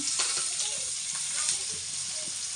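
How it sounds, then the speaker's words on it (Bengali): Chopped onion and chilli frying in hot oil in a pan, a steady close sizzle with soft stirring scrapes throughout, no talking. "লঙ্কা কুচি দিলাম পেঁয়াজ কুচি লঙ্কা কুচি দিয়ে ভেজে নিচ্ছি"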